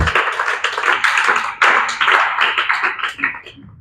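A church congregation claps loudly and continuously in a dense burst of applause to acclaim Jesus, the sound close and full before thinning out into scattered claps at the end.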